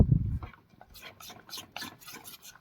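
Melting chocolate being stirred in a pan over a low flame gives soft repeated scraping strokes, faint and close, after a brief low knock at the start.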